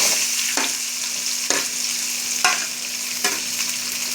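Onions fry in hot oil for an okra stir-fry, a loud, close sizzle broken by regular stirring scrapes about once a second, with no talking.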